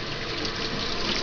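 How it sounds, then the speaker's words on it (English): Steady stream of water from a tap running over a hand to wash off bread dough, a continuous close hiss of splashing water with no talk. "I'm just washing off my hand here because I got some dough on my other finger over here"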